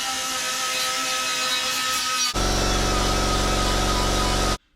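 A power drill runs steadily to drive self-tapping screws into a 1978 K5 body panel, its loud whine deepening into a heavier loaded drone halfway through before cutting off abruptly.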